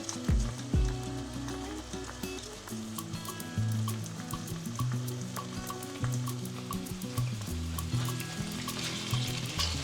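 Chopped potatoes frying in a pan for a simple breakfast, a loud continuous sizzle and crackle close up, broken by bursts of spatula scraping and clinks as the pieces are spread out.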